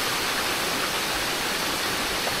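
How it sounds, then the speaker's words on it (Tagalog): A waterfall on a river pours down in a steady, dense roar of rushing water, loud and close, with no voices over it. "Yung bagsak ng tubig."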